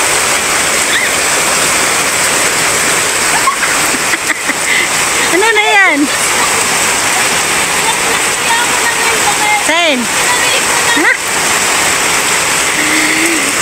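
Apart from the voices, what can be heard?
heavy rain pouring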